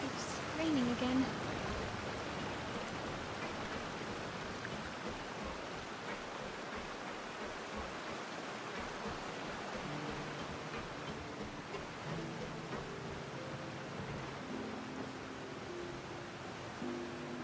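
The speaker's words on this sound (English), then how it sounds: "It's raining again." Steady rain falls in Genshin Impact as a broad, even wash of noise that holds constant across the whole stretch, with faint background game tones underneath.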